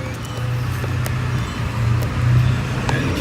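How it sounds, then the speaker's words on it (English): A truck passes by outdoors, a loud continuous low engine rumble with road noise that swells slightly toward the end, heard close against open-air background. "you can hear that I'm outside because you hear a truck passing"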